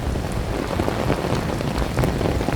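Heavy rain pours down outdoors in a rainstorm with strong gusting wind, a dense, steady roar of drops close to the microphone throughout, with no voices.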